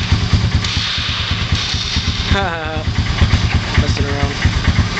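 A Honda ATV engine idles low after a cold start, chugging in a steady rhythmic thump throughout, close and loud, while a person speaks briefly over it.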